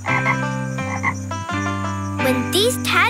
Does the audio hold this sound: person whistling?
no